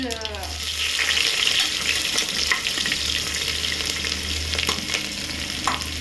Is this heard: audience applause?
no